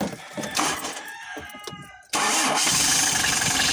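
A Hyundai H100 van engine cranks and catches after a steering pump replacement, a loud starting burst that settles into a steady, close running idle.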